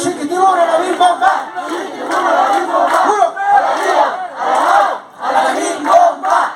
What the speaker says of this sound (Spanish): Queremos pedir una porra, por favor, para el santo San Francisco de Asís, que se escuche a las 3.